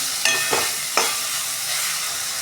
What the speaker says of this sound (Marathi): ह्याच्यामध्ये थोडंसं गरम पाणी घालणार आहे